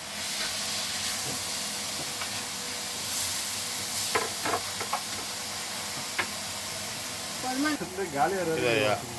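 Tomatoes fry in a pan with a low, steady hiss and sizzle, broken by a few stirring clatters, and a voice is heard near the end.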